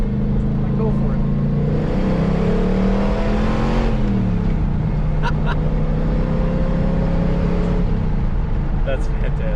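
An LS-engine powered DeLorean accelerating hard, loud throaty roar climbing in pitch through a gear change, with a voice talking faintly under the engine noise.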